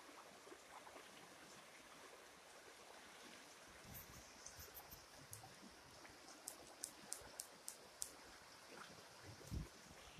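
A stream flows faintly in the distance outdoors, a soft steady wash of running water punctuated by scattered small clicks and ticks, very quiet overall with no voices.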